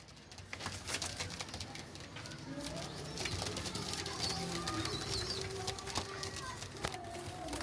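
Black and green pigeons for sale coo softly in a loft, with scattered wing flutters and shuffling among several birds and steady background noise throughout.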